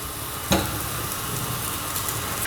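Onions and ginger toasting in a hot pan give a steady, close sizzle with a brief sharp pop about half a second in, then even crackling with no talk.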